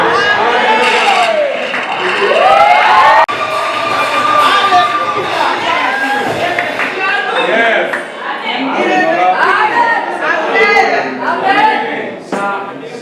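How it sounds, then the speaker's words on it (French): A church congregation at a faith gathering cheers and shouts together, a loud, sustained mass of voices with whoops and cries rising and falling over about thirteen seconds. "Est-ce que quelqu'un peut acclamer?"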